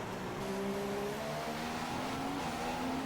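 Formula 1 race cars in a video game pull away from the race start at the Singapore circuit, several engines whining and rising in pitch together as they accelerate, loud and steady with no talking.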